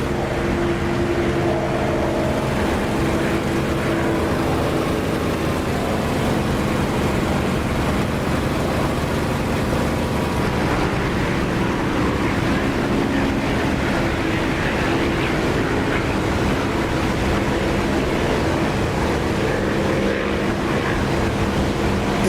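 An enemy aircraft's engine in the DCS flight simulator game drones on steadily and evenly throughout, a continuous mid-loud hum with no talking.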